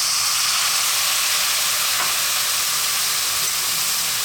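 Coconut milk poured into a pan of sizzling Sri Lankan curry spices gives a steady, loud frying hiss that holds evenly from start to finish with no talk.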